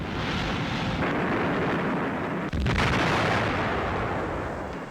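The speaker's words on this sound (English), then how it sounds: "A depth bomb. The convoy is explosively hunting submarines." A WWII depth bomb explodes as a convoy hunts submarines, a dense, sustained roar of rumbling blast noise with a brief dip midway, loud and continuous throughout.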